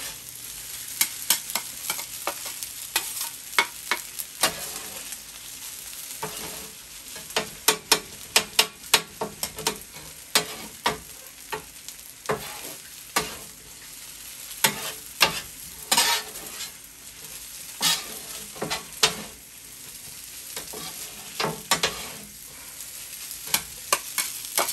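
Hibachi fried rice with peas, carrots and ginger sizzling on a Steelmade USA flat top grill, under a continuous bright frying hiss with rapid, busy spatula scrapes and clicks throughout.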